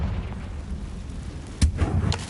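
A Confringo fire spell bursts with a sharp blast in the Hogwarts Legacy video game, one sudden loud boom followed by a rumbling crackle over a low steady game ambience.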